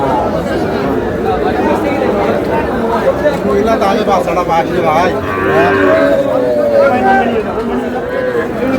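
Several cows and young bull calves moo loudly and close by over a busy crowd of people talking at a farm, with the lowing rising and falling in long calls.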